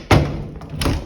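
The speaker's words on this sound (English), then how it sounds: "Door." A door thuds shut twice, a loud close followed by another about 0.7 seconds later, heard indoors during a house walkthrough with room echo.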